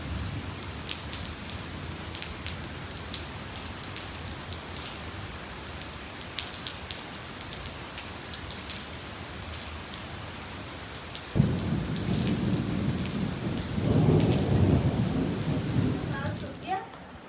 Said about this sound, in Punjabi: ਬਹੁਤ ਜ਼ਿਆਦਾ ਮੀਂਹ ਪੈਂਦਾ ਏ ਦੇਖੋ ਬੱਦਲ ਵੀ ਐਨ ਪੂਰਾ ਕੜਕਦਾ ਏ